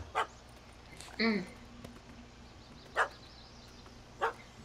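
A puppy in The Witcher 3 video game gives several short, separate barks and yips at moderate distance against a quiet background, with a brief spoken line in between.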